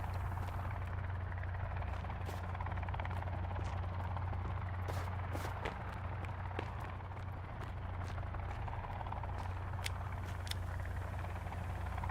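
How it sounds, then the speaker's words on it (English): Helicopter in the survival video game Sons of the Forest, a steady low rotor drone that holds throughout at moderate distance, with faint footsteps or movement sounds ticking over it. "There's a helicopter."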